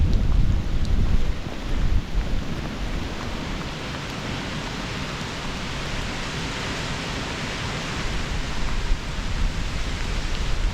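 Strong wind at 20 miles an hour with gusts over 30 buffets and roars continuously outdoors, rumbling harder in gusts at the start and end, with no voices.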